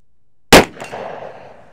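A single sharp, loud gunshot from a snubnosed .357 Magnum revolver fired at a steel plate, followed by a brief metallic ring and short decay outdoors.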